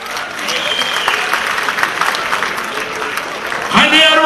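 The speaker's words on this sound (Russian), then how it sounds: "Ваши аплодисменты, маэстро!" Audience applause at a concert by a Dagestani performer, a sustained crowd clapping that swells loudly near the end as a voice rises over it.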